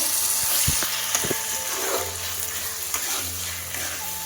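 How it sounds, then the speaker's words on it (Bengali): Potatoes fry and get stirred in spiced oil in a kadai for a Bengali chicken curry, a steady close sizzle broken by scraping stirs, with no voices. "লাল লাল করে আলু দিয়ে ভেজে নেব।"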